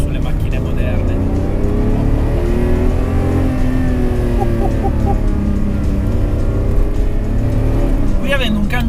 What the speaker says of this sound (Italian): che spettacolo sentire questo 12 cilindri dietro di me e giocare con un cambio manuale